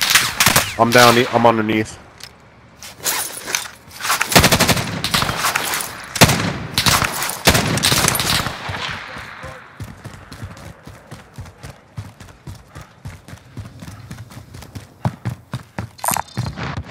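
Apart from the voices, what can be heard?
gunfire in Warzone video game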